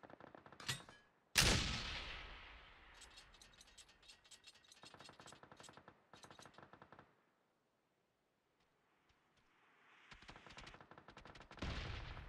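Mortar launches in PUBG on PC: a sharp thump, then another, each followed by bursts of clicking and ratcheting from adjusting the sights, a quiet pause, and a final loud report near the end.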